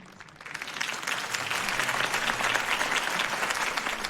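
Applause from a large crowd in the video game Batman: The Telltale Series swells in after a brief quiet start and continues steadily, loud and dense with many hands clapping.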